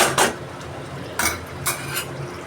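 Cooked kidney beans tip into a pan of oil-glazed masala with a few scraping, clattering bursts of pot and spoon, short and close, separated by quiet background hum.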